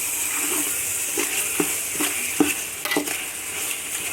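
Masala for chicken biryani being sautéed in a pan on an induction stove, a steady sizzle with repeated soft scrapes and knocks of the spoon stirring at a moderate distance, with no talking.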